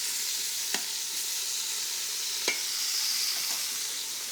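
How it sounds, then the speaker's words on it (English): Veal osso bucco searing in a pressure cooker, a steady bright sizzle of meat frying, with a few faint clicks and taps against the pot. "we're just letting these caramelize in the pressure cooker"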